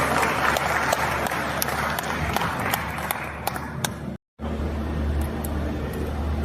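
An audience at a government Cybersecurity Month launch event applauds the Secretary with steady, dense clapping that fills the room, cutting out for a split second before continuing just as loudly.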